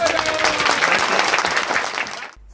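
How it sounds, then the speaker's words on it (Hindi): A crowd of Congress party workers applauds at a political rally in Mahasamund district. The clapping is loud and dense, runs for about two seconds, then stops abruptly. "जोरदार तालियां बजाएं"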